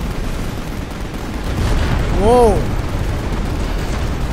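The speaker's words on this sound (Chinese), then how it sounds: "嗰下爆炸系佢开刀炮定系我打中佢啊？" A rumbling explosion in a Final Fantasy XV battle swells to a broad boom midway, beneath dense game noise, with a voice letting out a short exclamation over it.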